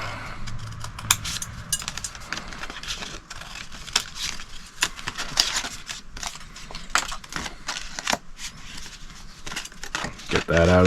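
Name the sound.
cutting and trimming material for an axe sheath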